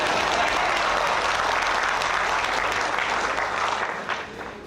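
Delegates at a SADC prisons and correctional services meeting applaud together, a dense, even wash of clapping that runs steadily and tapers off slightly near the end.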